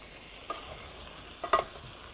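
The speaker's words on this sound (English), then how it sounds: "by sautéing the vegetables in the spices before you add the moisture" Vegetables sautéing in a pan with turmeric and ground spices, a quiet sizzle under a few brief stirring scrapes and clinks, with no talk.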